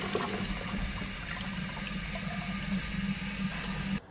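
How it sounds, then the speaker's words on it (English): Smart toilet's big flush set off by remote control, a steady loud rush of water filling the room for about four seconds before cutting off abruptly, with no voices. "Press the flush button to activate the big flushing function."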